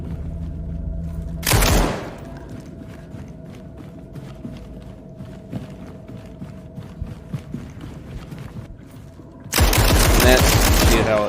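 Gunfire in the SCP 5k video game, aimed at spitter flowers, comes as bursts of rapid shots amid game ambience. Loud blasts of sound open the stretch and close it.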